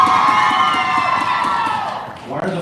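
Fans cheering loudly at Gabriel Iglesias's handprint ceremony at the Chinese Theatre in Hollywood, a dense crowd of whoops and shouts that swells, then fades slightly near the end.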